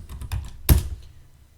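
A few light keystrokes on a computer keyboard, capped by one harder, louder key press like an enter hit, close up with no talking.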